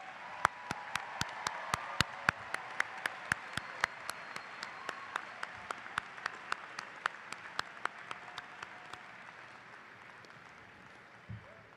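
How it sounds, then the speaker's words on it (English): Sparse audience clapping at the East View High School 2018 graduation, faint and distant, sharp individual claps spaced across the whole span over a soft crowd murmur. "Let's hear a round of applause for all those loved ones that helped you get to this stage."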